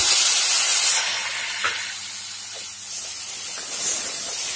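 Tomatoes go into a hot pan for malai tinda and set off a loud, sharp hiss that quickly settles into a steady sizzle and frying crackle.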